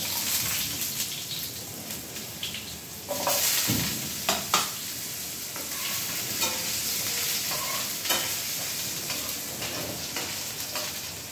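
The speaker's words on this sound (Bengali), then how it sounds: "আলুটা প্রথমে একটু ভেজে নেব।" Small diced potato pieces fry in a kadai, a steady close sizzle broken by a few stirring clatters and scrapes, with no talking.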